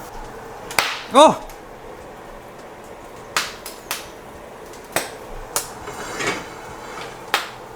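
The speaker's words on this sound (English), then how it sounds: "the wood ear mushrooms were freaking scary to make. It was literally exploding" Wood ear mushrooms searing in a hot pan, bursting with sharp, scattered pops and cracks spread across several seconds, one loud burst near the start, alongside a startled exclamation.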